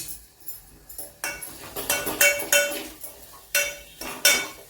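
A spoon stirs chili powder, asafoetida and turmeric into fried mung dal in a pan, giving repeated clinks and scrapes against the metal in uneven bursts, close and fairly loud with no talking.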